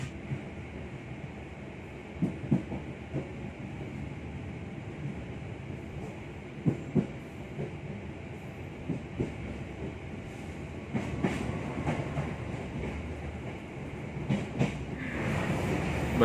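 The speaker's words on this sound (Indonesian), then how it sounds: "kereta barang malah lewat teman-teman" A freight train rolls past Jatinegara depot with a steady rumble and repeated clacking of wheels on rails. The sound grows louder toward the end.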